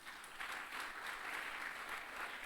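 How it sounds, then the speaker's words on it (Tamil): Applause from a school audience at an event at Al-Bahriya Maha Vidyalaya in Kalmunai: dense, continuous clapping from many hands, fairly loud and steady throughout, with no talk over it. "இந்த கரகோஷம் உங்களுக்கு கிடைக்க வேண்டும்."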